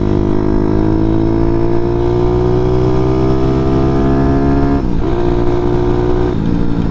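A 212cc Grom clone motorcycle engine revs steadily while being ridden, a loud continuous mid-pitched drone with harmonics that sag and dip briefly twice near the end as the throttle eases.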